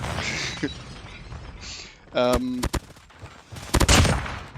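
Gunfire in the mobile shooter Modern Combat, hitting the player from behind: sharp bursts of shots and impacts in separate clusters, loud and close, with a voice speaking over parts of it.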